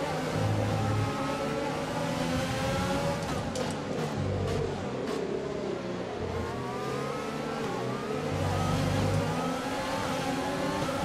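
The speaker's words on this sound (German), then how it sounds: "der Renault-Motor hört sich natürlich jetzt hier auch ganz anders an" Renault F1 power unit in the F1 2020 racing game, a steady high-pitched engine whine with rising and falling revs through gear changes, loud and continuous with other cars racing nearby.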